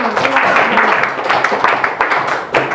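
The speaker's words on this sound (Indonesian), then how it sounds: "Kasih tepuk tangan untuk kelompok 5." A classroom of students applauds a student group after its presentation, a dense burst of close hand clapping lasting a few seconds.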